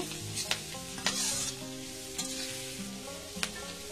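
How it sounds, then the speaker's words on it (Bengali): Dry fish frying in a pan for a Bengali shutki chorchori, a steady close sizzle with repeated stirring scrapes and spoon clinks throughout. "এটা 2 মিনিট ভেজে নেব।"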